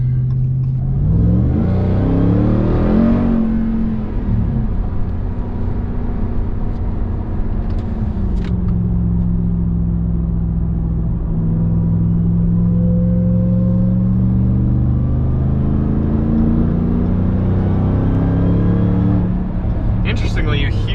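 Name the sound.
2021 Ram TRX supercharger whine and exhaust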